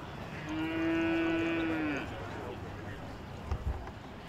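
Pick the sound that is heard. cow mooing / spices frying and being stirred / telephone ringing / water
cow mooing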